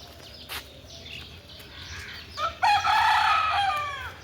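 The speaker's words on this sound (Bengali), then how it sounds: "এই দেখো মোরগ সকালবেলার ক্লক অ্যালার্ম ক্লক" A rooster crows in the morning, one long, loud, close call rising clearly after a few faint, scattered sounds, with no talking over it.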